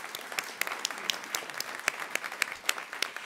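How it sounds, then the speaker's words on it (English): Audience applause for the speakers at a consultative platform launch, steady clapping from a moderate crowd with sharp individual claps standing out, sustained throughout. "Let's have a round of applause for all of our speakers so far"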